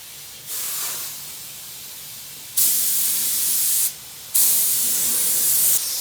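A spray gun sprays paint onto Land Rover Series 1 107 wheels and splutters. A steady hiss gives way to two loud, sustained blasts separated by a brief pause, heard close up.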